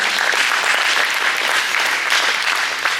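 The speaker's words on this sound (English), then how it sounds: "Give him a big round of applause." A crowd at a high school post-prom event claps loudly, a dense, even burst of applause close by that holds steady for about three seconds.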